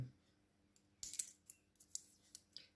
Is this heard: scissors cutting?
yes